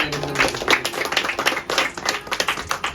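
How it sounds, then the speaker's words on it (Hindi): Audience at a Hindi-language talk on caste reservation quotas breaks into clapping, a brisk patter of many hands for a few seconds with faint background voices. "जोरदार ताली हो जाए"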